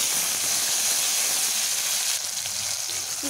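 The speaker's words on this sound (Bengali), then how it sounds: "এবার ফোড়ন একটু আমি ভাজবো, খুব সুন্দর একটি ফ্লেভার বেরোবে।" Tempering spices (phoron) frying in hot oil for a vegetarian taro dish, a loud, steady hiss and sizzle close by with no talking.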